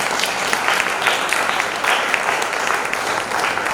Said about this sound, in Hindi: तालियां कुछ कम थी।